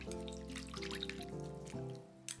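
Thinly sliced raw leek is stirred in a bowl of water, giving soft sloshing and dripping sounds, close and quiet, over a faint steady hum.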